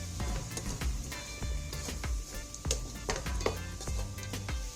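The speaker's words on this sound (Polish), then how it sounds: "Smażę jeszcze minutkę razem z czosnkiem" Garlic fries steadily in a hot pan while a utensil scrapes and taps against it in an irregular stirring rhythm.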